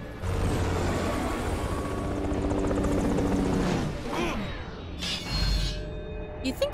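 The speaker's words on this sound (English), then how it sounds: "he would just smash clean through this thing. Like, just leave a big Raiden-shaped hole in the helicopter" A helicopter in the action video game Metal Gear Rising: Revengeance roars with loud, dense rotor and engine noise that swells and then breaks up into crashing, shattering impacts and whooshes near the end.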